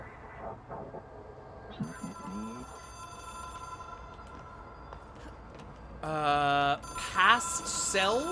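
A phone rings in the video game Control, heard as sparse tonal chirps over a low hum, with louder harmonic ringing bursts near the end.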